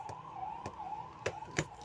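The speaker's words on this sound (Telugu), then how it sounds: "బయట అవుట్డోర్లో పోలీసు వాళ్ళు పోతున్నారు, హారన్ ఇచ్చుకుంటూ" A faint police vehicle siren wails steadily in the distance outdoors, rising and falling as it passes on patrol, with a few sharp clicks nearby.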